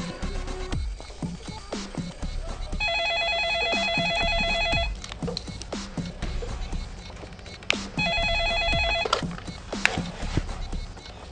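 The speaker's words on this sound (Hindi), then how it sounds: "अभी लगाता हूँ इसके बाप को फोन" A telephone ringing on an outgoing call in a Bollywood comedy scene: two long bursts of ringback tone, each lasting a couple of seconds, with clattering and background noise around them.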